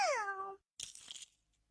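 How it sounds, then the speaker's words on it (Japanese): A cat gives a clear, close meow that slides downward, followed after a short pause by a softer, breathy second call. "どうしたのこの猫。"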